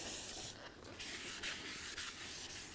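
Cleaner sprayed in short bursts onto a brand new rear brake rotor for a 2010-2016 Buick LaCrosse, giving a close, steady hiss with brief pauses between sprays.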